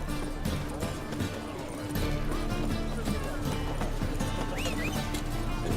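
Horse galloping in The Witcher 3: Wild Hunt, with a quick, steady clatter of hooves and a faint whinny, close and loud over ambient game sound.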